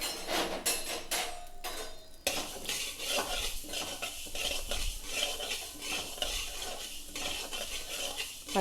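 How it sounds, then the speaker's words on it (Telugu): Fenugreek seeds are stirred and fried in a pan. A spoon scrapes and clinks against the metal in an irregular rhythm over a soft sizzle, close up, with no talking. "పచ్చివాసన పోయేటట్టు ఫ్రై చేసుకొని"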